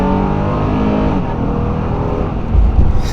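A Honda Pilot SUV engine roars loudly up close as it accelerates, a steady deep rumble rising in intensity.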